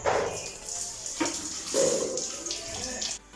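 Water runs steadily from a tap while a person washes hands and feet, a continuous splashing hiss with shifting gushes and a faint voice in the background.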